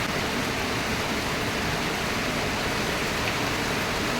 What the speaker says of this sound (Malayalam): എല്ലായിടത്തും നല്ല മഴയൊക്കെ ആയിരിക്കും അല്ലേ